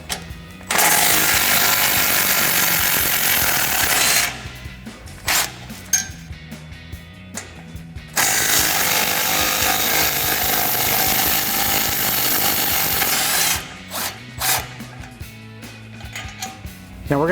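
A socket tool with a 14 mm socket works loose the stock cat-back exhaust bolts on a Toyota Tundra. It gives loud, close mechanical ratcheting in two long sustained runs, then shorter stop-start bursts, with no talking.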